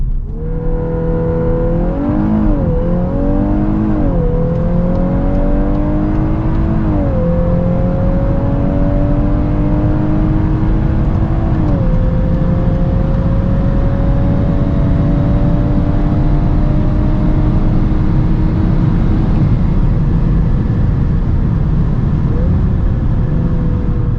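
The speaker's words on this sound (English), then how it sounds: "let's now see how fast the Golf R goes, 100 to 200" A 320 hp VW Golf 8 R accelerates hard from 100 to 200 km/h, its engine climbing steadily through several upshifts with brief pitch drops, heard from inside over loud, constant road and wind roar.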